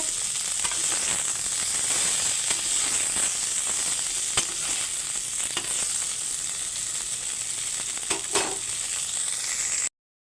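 Cauliflower pieces fry in oil in a pan, a steady close crackling sizzle with occasional sharper pops, no talking over it.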